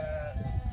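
Sheep bleat close by on a farm with lambs, a steady held cry with a low rumble of the flock and movement underneath, no talk.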